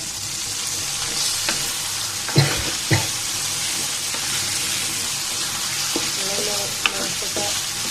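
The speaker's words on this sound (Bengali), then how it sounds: "মশলাটা ভালো মতো কষানো হয়ে গিয়েছে" Spice masala for chicken curry being stirred and fried in a pan: a continuous loud sizzle with a few scraping spoon strokes and knocks against the pan.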